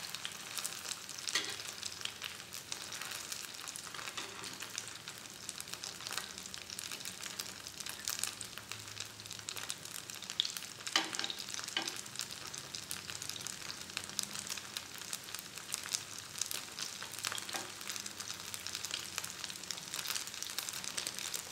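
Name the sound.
cilor frying in spattering oil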